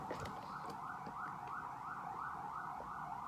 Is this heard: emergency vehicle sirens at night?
yes